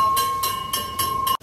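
A train runs along the track with regular clattering thumps and a steady tone underneath, heard close for a short stretch before cutting off abruptly.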